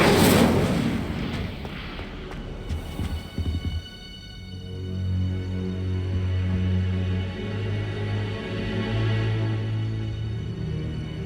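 In Hogwarts Legacy, the Incendio fire spell goes off as a burst of fiery crackle and whoosh up front, then settles into a sustained roaring hum with a tonal magical ring that holds for several seconds.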